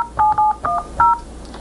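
Several short touch-tone beeps come in quick succession from an office phone system's keypad as 9 is dialed for an outside line, each tone crisp and close, separated by brief gaps.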